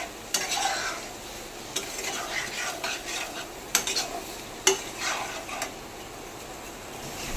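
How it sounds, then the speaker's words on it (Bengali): Mushrooms being stirred and tossed with spices in a pan, with soft scraping and a few sharper clinks of a utensil against the pan over a faint sizzle, steady and close. "দিয়ে মাশরুমটাকে আমি ভালো করে মশলার সাথে মাখিয়ে নিচ্ছি"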